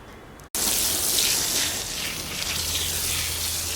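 After a brief click, water from a pipe gushes out steadily and close by, a continuous splashing flow onto soil in potato grow bags that runs to the end.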